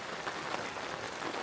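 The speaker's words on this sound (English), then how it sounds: "There's all the rain." Rain falls at a backwoods campsite, a dense steady patter of drops on surfaces, close and even throughout the short stretch with no voices.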